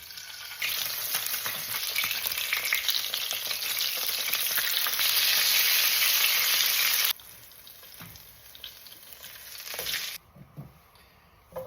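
A barramundi fillet laid skin down in a hot pan sizzles loudly and steadily for about six seconds, then settles into a much quieter, lighter frying hiss with occasional faint clinks.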